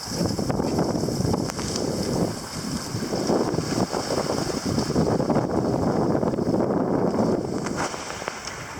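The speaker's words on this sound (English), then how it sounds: "the winds have been picking up over the last 20 minutes pretty steadily" Strong wind on a sailboat on Chesapeake Bay ahead of a gale, a steady loud roar of gusts buffeting the microphone with rushing water underneath, continuous throughout with no talking.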